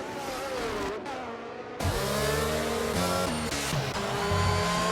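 A Mercedes Formula race car in a racing video game overtaking a McLaren at the Mexico City Grand Prix, its engine screaming at high revs and climbing through the gears, loud and continuous.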